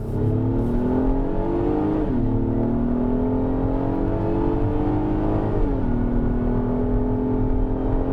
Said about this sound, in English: Let's accelerate onto the highway here, coming up this ramp from 12 miles an hour.